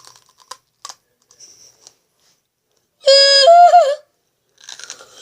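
A raw green pepper is bitten and chewed, with a few short, crisp crunches close to the mouth, then a loud vocal cry and more chewing noise.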